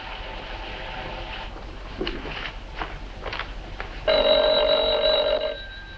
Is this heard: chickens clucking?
no